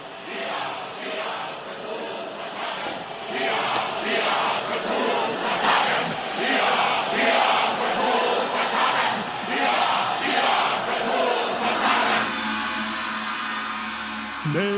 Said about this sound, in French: Donc vous entendez effectivement cette foule commencer à scander